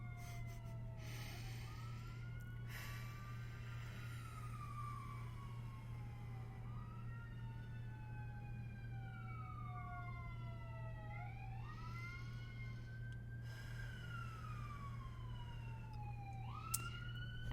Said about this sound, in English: There's another siren.